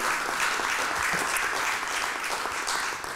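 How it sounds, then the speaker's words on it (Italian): Studio audience applause on a television show, continuous massed clapping at moderate level that stays even and fades slightly at the end. "un applauso che noi facciamo arrivare fin lassù"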